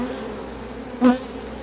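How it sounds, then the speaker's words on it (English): Honeybees buzz as they are shaken off a brood frame, a close, steady drone that swells into a louder burst of buzzing near the end. "I'm going to shake all the bees off. Some of them are going to fly"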